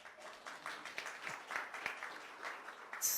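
Audience at a venture capital panel claps at a low, distant level, a soft scattered patter of hands lasting a few seconds with no talking over it.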